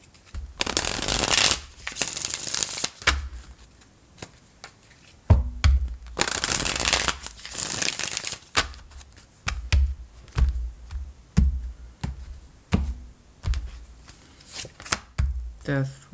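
Tarot cards riffled and shuffled in several bursts, crisp papery flutters alternating with quieter tapping and handling, fairly close.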